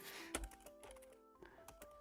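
Keys clack on a computer keyboard in irregular bursts, close and fairly quiet, with some softer thunks between strokes.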